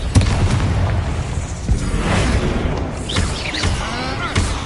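Confringo spell blast in the Hogwarts Legacy video game, a loud booming burst followed by rumbling debris and whooshing magical effects, layered with swirling game sounds and brief squealing tones.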